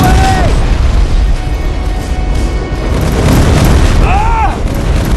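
Rocket explosions in Terminator: Resistance boom loudly and continuously, a dense barrage of close blasts and bursts, with brief shouted voices cutting in near the start and end.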